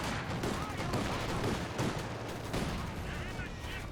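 Rifle squad firing in a Company of Heroes 2 battle, with dense overlapping gunshots and bursts rattling steadily over constant battlefield noise, a few sharper cracks standing out throughout.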